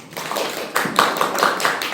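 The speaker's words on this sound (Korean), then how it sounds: "발제자분께 다시 한번 큰 박수 부탁드리겠습니다" An audience at a gender-equality policy forum in a town hall conference room claps in a moderately close burst of applause that builds and holds steady for a couple of seconds.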